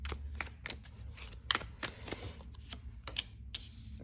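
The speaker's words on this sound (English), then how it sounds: "I'm terrible at the shuffling today. I'm just knocking them everywhere." Tarot cards being shuffled by hand, a string of quick papery riffles and taps, some knocking clumsily, close and fairly quiet without talk.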